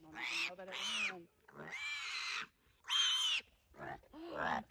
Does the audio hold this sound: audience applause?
no